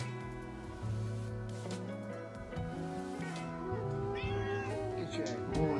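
A little kitten meowing on a street, several plaintive cries heard close by over a loud bed of music.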